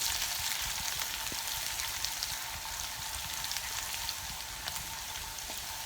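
Ginger, garlic and onions fry in a pan with a steady, close sizzle that holds through, broken by a few faint clicks and stirring touches.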